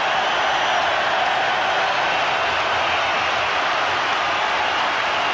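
Rugby stadium crowd at the 1999 Rugby World Cup roaring steadily as a player runs in a long-range try, a dense, loud, continuous wash of cheering with no distinct breaks.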